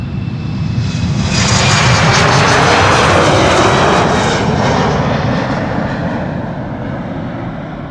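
An Aer Lingus airliner at Schiphol Airport roars loudly and close, its engine noise swelling to a peak midway then easing slightly, a dense, sustained rumble and whine with no voices.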